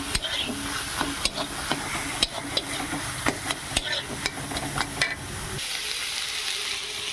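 Boiled cabbage stirred in a pan for a cabbage and potato chorchori, with a steady close sizzle and frequent spoon scrapes and knocks against the pan, after which the sizzle softens.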